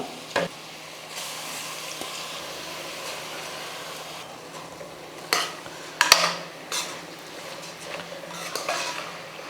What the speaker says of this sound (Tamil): அரிசி சேர்த்ததுக்கப்புறம் ஒரு நிமிஷத்துக்கு வந்து நல்லா இந்த காய்கறியோடு சேர்த்து நல்லா வதக்கிக்கலாம்